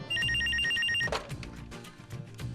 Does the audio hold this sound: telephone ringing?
yes